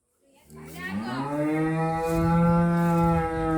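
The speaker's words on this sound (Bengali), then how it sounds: "ওই গরু কার আর এই গরু কার?" A cow at an Eid sacrifice gathering lets out a single long, deep moo, rising in and holding for a few seconds, close and loud.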